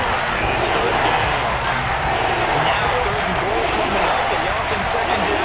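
Stadium crowd in the Madden 23 football game, a broad constant roar of fans under play-by-play commentary, loud and sustained.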